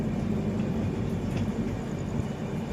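Howrah Amritsar Mail passenger train running, a steady loud low rumble with constant broadband rail noise throughout, no talking.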